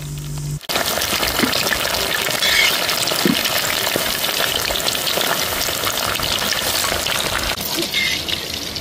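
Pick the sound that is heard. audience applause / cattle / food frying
food frying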